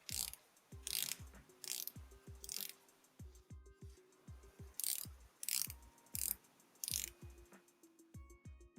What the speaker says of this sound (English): This is a 90-click unidirectional bezel, and it operates nice and tactile.